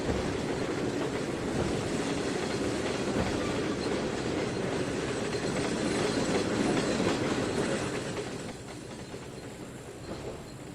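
An old Santa Fe train in the video game Trainz 2019 rolls in with a steady rumbling clatter of wheels on rails, loud and continuous before easing off toward the end.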